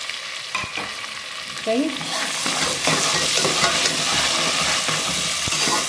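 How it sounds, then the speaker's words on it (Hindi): Tomatoes sizzling as they fry in a pan for matar pulao, a loud continuous crackle that swells after a few spoon knocks, with a single brief spoken word early on. "टमाटर डल गए हैं"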